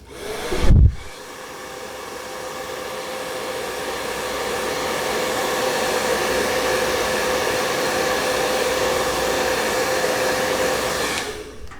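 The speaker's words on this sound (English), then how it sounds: "I'm gonna hit that with a blow dryer" Handheld blow dryer heating hairspray on styled hair, a steady loud whooshing roar that runs for about ten seconds after a brief bump as it switches on, then cuts off at the end.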